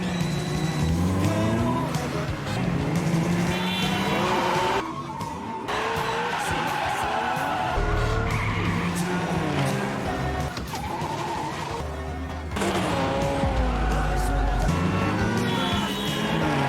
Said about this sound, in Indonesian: kebut-kebutan di jalan raya dimulai